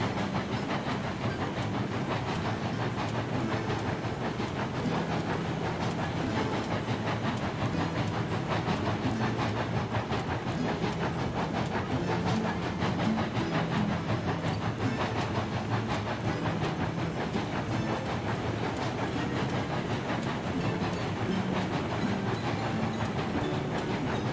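Locomotives in Railroads Online run steadily for the whole stretch: a continuous rumbling train drone with rhythmic clickety-clack and hiss, at constant loudness and without talking.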